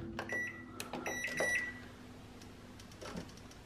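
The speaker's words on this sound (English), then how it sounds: "It says to microwave for 1 minute 20." Short electronic beeps from keypad presses setting 1 minute 20, followed by the low hum of a microwave oven starting up and running, cooking a Biscoff cake mixture.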